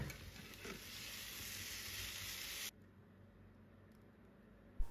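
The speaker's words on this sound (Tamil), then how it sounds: "தென் அதுலேயே வந்துட்டு ஆனியன் பெட்டல்ஸ் அண்ட் கேப்சிகம் இது ரெண்டையும் சேர்த்துட்டு இதை ஒரு 2-3 மினிட்ஸ் குக் பண்ணிக்கலாம்" Onion petals and capsicum sautéing in oil, a dense, loud sizzle for the first half that drops suddenly to a quieter hiss, ending with a brief knock; no talking.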